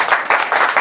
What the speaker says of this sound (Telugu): మీరు అందరూ ఒక్కసారి గట్టిగా క్లాప్స్ కొడితే